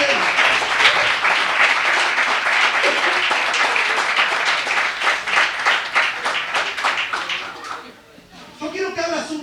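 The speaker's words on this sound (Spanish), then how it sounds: "denle un aplauso de gloria al Rey" A church congregation breaks into vigorous applause for the King during a sermon, a loud mass of rhythmic clapping with a few scattered voices, then briefly dipping before a last burst.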